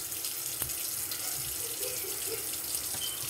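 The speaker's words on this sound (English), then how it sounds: "you're going to add a little water." Water runs steadily from a kitchen tap into a pan for steaming chicken, a constant close hiss with light splashing and a couple of small clinks, no voices.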